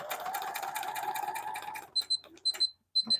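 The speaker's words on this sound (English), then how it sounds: "It's just beeping because it wants to beep, I guess" A sewing machine whirs steadily, then stops, and a series of high electronic beeps follows in short bursts with brief pauses between.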